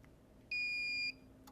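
A game show contestant buzzer gives a single loud, steady electronic tone of about half a second, sharp on and off, against a quiet background.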